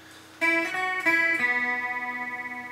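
A few guitar notes plucked on one string ring out one after another in a short sequence, the last note sustaining and slowly fading, clean and fairly quiet.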